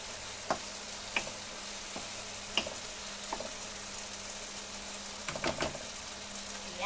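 Meat cubes frying in a pan for a bitter gourd dish, a soft steady sizzle punctuated by scattered clicks and scrapes of a stirring utensil.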